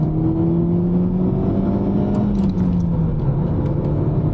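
An Alfa Romeo Giulietta Quadrifoglio engine pulls steadily under acceleration, a continuous loud drone with rising and falling pitch as it revs up on the road.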